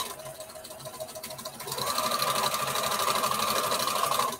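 Sewing machine stitching the final panel of a patchwork bandana T-shirt dress, a steady mid-pitched motor whir that starts up partway through and runs continuously to the end, close and fairly loud.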